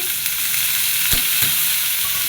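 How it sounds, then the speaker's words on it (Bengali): Bitter gourd and potato pieces fry in a pan with a steady close sizzle, a couple of sharp stirring knocks against the pan, and no voices. "দিব উস্তে আলু ভাজি"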